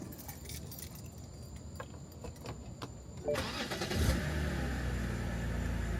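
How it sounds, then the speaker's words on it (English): A BMW car is started: keys jangle and rattle in the ignition for a few seconds, then the engine cranks and catches into a steady idle hum, close and fairly loud. "So when you turn on the car"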